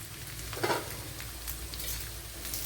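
Fennel, crushed garlic, ginger and dried red chillies frying in hot oil, a steady close crackling sizzle with small popping bursts and a brief stir near the start.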